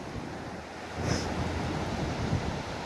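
Ocean waves breaking on a beach, a steady roar of surf with a louder wash building partway through, continuous and fairly close with wind across the microphone.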